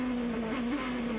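A 2007 GP2 Series race car, Filippi's, running at speed on the Valencia circuit, gives a loud, steady, close engine drone held at an even pitch for the whole moment, with no talk over it.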